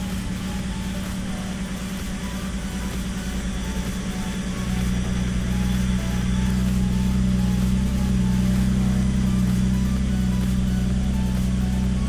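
A newly installed GM L67 supercharged 3800 V6 in a Grand Prix runs with a steady, close mechanical hum that grows a little fuller partway through.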